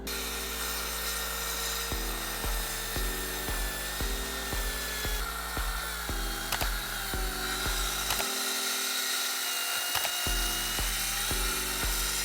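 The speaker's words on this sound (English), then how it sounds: "we're going to get it clamped up on the bench and cut it roughly to size" A power saw cuts an offcut of timber clamped to a workbench while shaping a wooden mallet, a loud, steady whine that drops in pitch in repeated pulses as the blade bites, with a short gap near the end.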